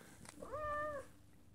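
One clear, drawn-out meow from a house cat, about half a second long and tonal, set against a faint low rumble of traffic in the background.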